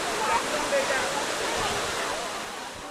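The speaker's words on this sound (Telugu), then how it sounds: "ఏముంది మామ ఇది వాటర్ ఫాల్" A big waterfall in Chikmagalur roars as a constant broadband rush of falling water, close and steady throughout.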